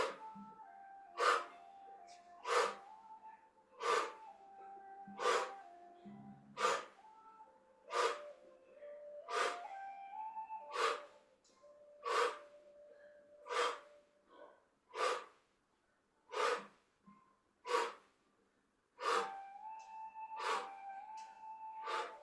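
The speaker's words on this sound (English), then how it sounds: "Focusing on your out breath." A long series of about fourteen sharp breath bursts at a steady pace during qigong kicking practice, each a quick forceful exhale close to the mic, with a soft tonal hum lingering underneath.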